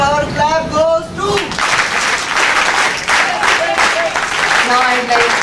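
An audience at a National Integration Camp inauguration at NSUT Delhi gives a loud, sustained NSS power clap, a dense wash of clapping with voices and cheers rising over it at the start and end.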